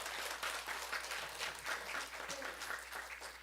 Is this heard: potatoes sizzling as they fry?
no